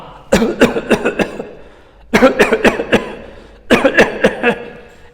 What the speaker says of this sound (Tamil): வலிந்து இருமுதல், வாலண்டரி காஃபிங்.